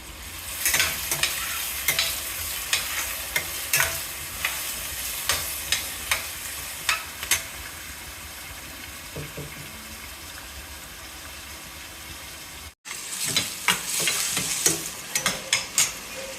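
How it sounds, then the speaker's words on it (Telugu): Onions fry in a pan of hot oil with a steady close sizzle, broken by frequent scraping stirs and a brief gap near the end before the frying resumes, with no talking. "ఇప్పుడు ఆనియన్స్ కొంచెము ఫ్రై అంత వరకు ఫ్రై చేసుకోవాలి"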